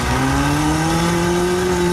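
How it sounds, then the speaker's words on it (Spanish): Choked, strained engine of a General Lee race car in a four-cylinder CAT category racing event, a continuous loud rising drone with steady harmonics and no talk. "oímos un poco atorado ese motor"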